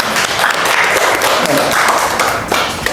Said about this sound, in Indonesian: Kita berikan aplaus dulu ya.